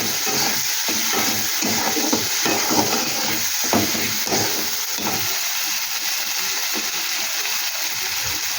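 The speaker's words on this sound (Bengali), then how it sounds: "এবার মশলাটাকে আমি ভালো করে কষিয়ে দিই।" Spice masala with salt and tomato fries in a pan for a fish curry, a dense close sizzle broken by repeated scraping stirs and light splattering, with no voices.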